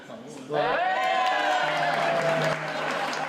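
Crowd applause with cheering and whoops at a ceremony, rising suddenly and sustained for a few seconds, loud and fairly close, with voices mixed in.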